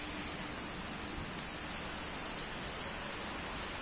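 Unseasonal rain falls steadily in Pathardi, Nashik, a constant, soft wash of drops on surfaces, faint and even throughout with no voices.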